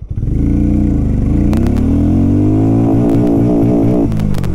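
A 400cc motorcycle pulls hard in first gear after a sudden clutch release, its engine note rising loud and close in one sustained rev with a few sharp clicks along the way.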